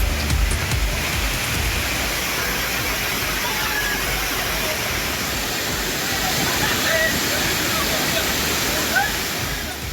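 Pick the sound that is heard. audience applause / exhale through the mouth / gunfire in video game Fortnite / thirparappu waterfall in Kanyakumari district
thirparappu waterfall in Kanyakumari district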